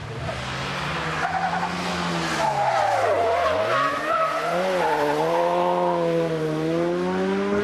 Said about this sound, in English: And no real sign of Pete Doughty's tyre problems here on this tarmac stage.